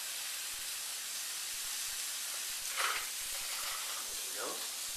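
Onions frying in oil in a pan, a steady soft hiss and sizzle running throughout, with a brief louder burst near the middle and faint background noise.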